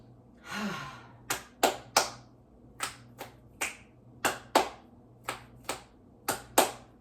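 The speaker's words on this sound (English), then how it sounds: "I'm bringing back the clap snaps." Sharp, crisp clap and finger-snap hits come one at a time in an uneven rhythm, close and fairly quiet, with a breathy exhale near the start.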